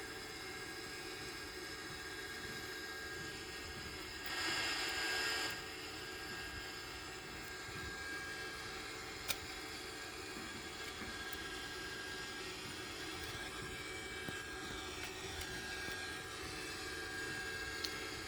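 An Airbus A340-313X starts its takeoff run, a steady, loud roar of jet engines and airflow filling the cabin without pause, with a brief hissing surge early on and faint clicks and rattles, no voices.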